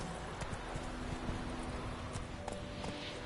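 Horse hooves clop at a fast steady pace in The Witcher video game, a quiet rhythmic drumming of steps under a constant background wash.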